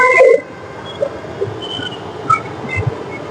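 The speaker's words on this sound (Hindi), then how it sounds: "इसकी हॉर्न आपको सुनाई दे ही रही है। ये देखो भाई सामने से मेट्रो आ रही है।" A Bhopal Metro train arrives at the platform with a low rolling rumble, and a few faint, brief horn-like tones sound over steady station noise.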